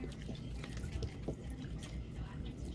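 Beef broth pours into a pot of chili, a close, continuous liquid splash and trickle with small dripping sounds.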